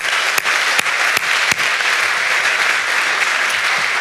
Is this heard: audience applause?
yes